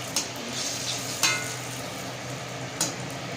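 Mango and coconut pitha frying in a pan of hot oil, oil spooned over from above: a steady soft sizzle with a few brief clinks of a utensil against the pan.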